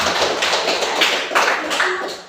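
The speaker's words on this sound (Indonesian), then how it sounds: "Tepuk tangan dulu untuk Afgan" A small group claps for a contestant named Afgan at a quiz-style event, a brief burst of brisk, close applause that trails off after a couple of seconds.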